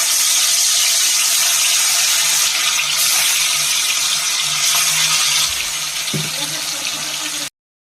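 Rupchand (pomfret) fish rubbed with salt and turmeric are slipped into hot oil, giving a steady loud sizzling hiss throughout that fades slightly near the end before cutting off.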